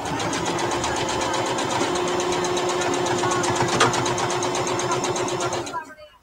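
A sewing machine stitches the corners of a small purse, a steady, fast mechanical whirring and clatter that runs continuously at close range before stopping just before the end.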